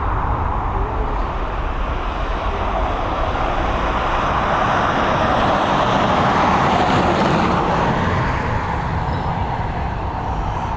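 A DHL cargo aircraft takes off at Dublin Airport, its jet engines producing a broad, steady roar heard from a distance with little variation in loudness.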